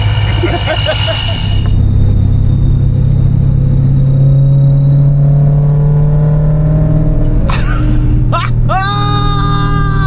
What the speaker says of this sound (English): First drive in the 1M clone with a supercharged S65.